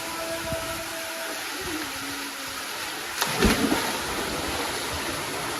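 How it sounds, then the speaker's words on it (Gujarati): Rain falls outdoors as a steady, even hiss, with a brief louder rustling burst about midway and no one talking. "હા વરસાદ છે ભાઈ, વરસાદ"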